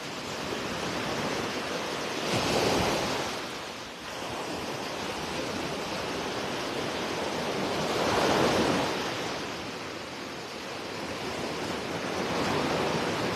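Ocean waves washing onto the sand at Vanderbilt Beach in Naples, Florida at daybreak, a soft, steady surf hiss that swells in slow, distant surges every few seconds.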